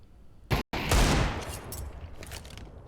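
Pistol gunfire during a professional Counter-Strike match: a sharp close shot, a brief cut to silence, then a loud burst of overlapping shots that trails into scattered pops and echoes over a few seconds.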